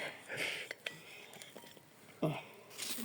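A knife slices through a seedless Melarosa bergamot fruit with a few soft, close cutting and clinking sounds, while people talk quietly nearby.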